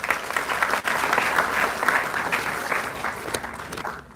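Sustained applause from a conference audience greeting an IEEE Maharashtra section guest at a ceremony, dense steady clapping filling the room and tapering off at the end.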